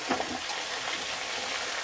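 A mixed vegetable curry sizzles in a pan, a soft, steady frying hiss that stays close and unbroken, with no voices over it.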